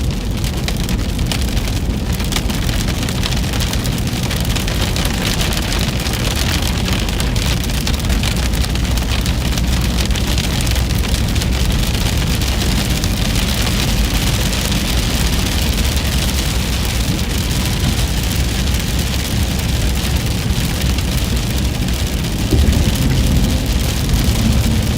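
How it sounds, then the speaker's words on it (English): Heavy rain pours steadily during a Dixie Alley storm with tornado risk, a dense, loud, continuous wash of drops that stays even throughout, with a faint low rumble underneath and no voices. "It rains quite a bit."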